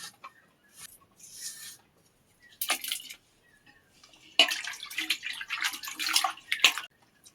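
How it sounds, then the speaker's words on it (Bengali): Thinly sliced potatoes being washed in water, with intermittent splashing and sloshing bursts that grow busier toward the end, close by and otherwise quiet. "আলুটা ধুয়ে নিয়েছি।"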